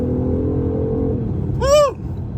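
BMW i8 supercar launches hard from a standstill: a low steady rumble gives way to a loud, rising whine that sweeps sharply upward then cuts off, heard close and on its own.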